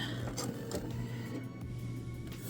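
Sewing machine stitching down the sides of fabric scraps with seam tape for a fall pillow, a steady low mechanical whir running throughout at moderate volume.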